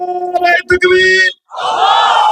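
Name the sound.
crowd answering the chant call Naraye Takbir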